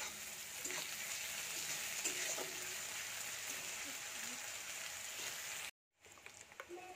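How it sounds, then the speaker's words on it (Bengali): Chopped onion and a little tomato fry in a pan, a soft, steady crackling sizzle with faint stirring clicks that cuts out briefly near the end before resuming. "পেঁয়াজ কুচিকে ভালো করে ভেজে নিই লাল লাল করে।"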